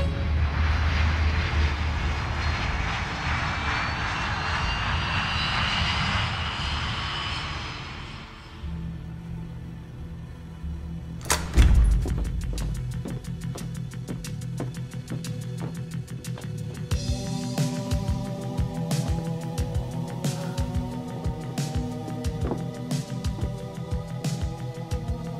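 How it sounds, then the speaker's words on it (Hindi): Aircraft engine as a plane takes off, a broad roaring rumble that fades away, then a sharp thud followed by a busy, tonal mechanical and musical bed from a dubbed film. "होटल ब्रावो 2201 उड़ान के लिए रास्ता साफ है।"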